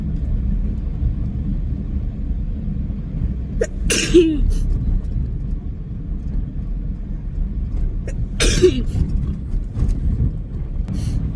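Two sharp sneezes, a few seconds apart, burst out over a steady low rumble of background noise.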